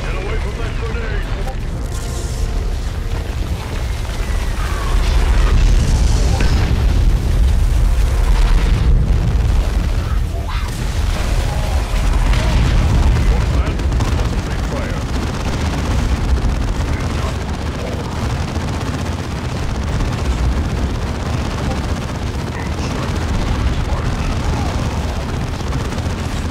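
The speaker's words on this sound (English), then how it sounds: "Enemy grenade!" Grenade explosions in the Dawn of War 2 campaign's final missions, loud booming blasts over continuous battle noise with shouted voices throughout.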